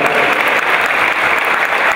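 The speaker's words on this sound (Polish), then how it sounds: "Dziękuję bardzo, wielkie brawa." Crowd at a speedway team presentation for KS ROW Rybnik applauds a rider, a continuous, even roar of many hands clapping, loud and close, with no pauses.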